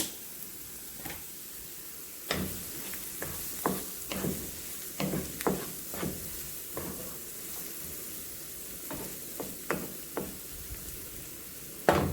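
Onion cooking in a pan for a sweet and savory wild rice side dish gives a soft continuous sizzle broken by repeated sharp scrapes and taps from stirring, close and without talk.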